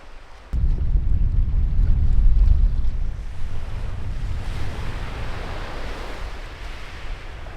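Waves wash onto the beach at Rapid Bay, a continuous roar of surf heavily mixed with gusting wind buffeting the microphone, loud and close after a sudden onset.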